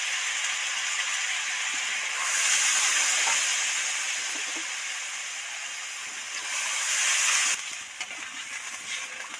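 Steady hiss and sizzle of a pan of spiced vegetables frying in oil, with papaya and potato in the dish, swelling louder around the moment water is poured in, then easing to a lighter simmering crackle.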